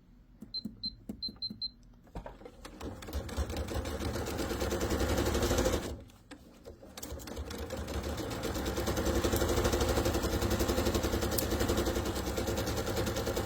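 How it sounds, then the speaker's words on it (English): Sewing machine stitching a quarter-inch seam along a pillowcase: a few short clicks, then a steady loud rapid motor hum with brief pause before resuming, close and with no talk. "So I'm just going to sew a 1/4 inch seam as we're going along."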